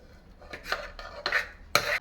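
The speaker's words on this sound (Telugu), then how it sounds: "దీన్ని వేరే గంజులకి షిఫ్ట్ చేస్తా" Cooked dal being scooped from one pot into another in a home kitchen, heard as a few separate metal ladle scrapes and clanks against a vessel, spaced out and moderately close.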